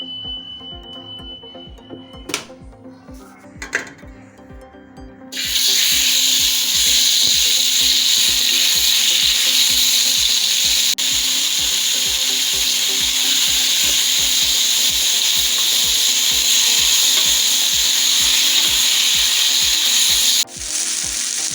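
After a few quiet clunks, marinated shawarma meat hits a hot oiled pan and sizzles loudly and steadily up close, a continuous crackling hiss that drops off abruptly at the end.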